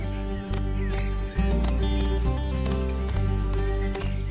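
Freiberger horses, an old Swiss breed in the Jura Mountains of Switzerland, whinny and clop their hooves over a steady tonal backdrop, with loudness shifting in a few swells.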